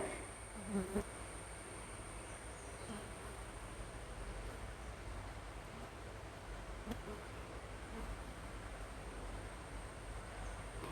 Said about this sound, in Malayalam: ഇവിടെ ഈച്ചയുടെ നല്ല ശല്യമുണ്ട് കേട്ടോ പുറത്തും അകത്തും ഒക്കെ ഈച്ചയുടെ ഭയങ്കര ശല്യമാണ്